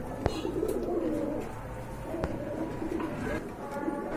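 Pigeons cooing in a loft of same-colored birds, soft low repeated coos close by with a couple of sharp knocks amid background noise.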